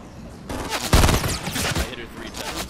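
Rapid gunfire rings out in a video game, a dense burst of loud, close shots with a sniper rifle in play, while a player talks over the action.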